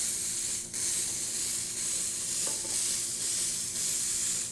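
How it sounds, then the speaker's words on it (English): Steam wand on a Breville La Specialista espresso machine hisses steadily as water and steam sputter out, with a few brief spitting bursts, close and alone. "we're going to turn on the steam wand just to show that the steam wand's working"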